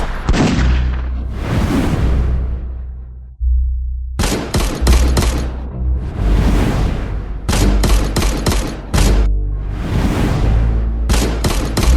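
Bursts of rapid gunfire crack out in a dramatic scene, loud and close, in several volleys separated by short gaps and one sustained roar, with no talk.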